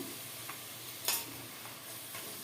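Tomatoes tipped into a hot frying pan for a Telugu cucumber and bommidala fish curry, stirred with a few sharp scrapes over a steady low sizzle, one louder clatter near the middle, no talking.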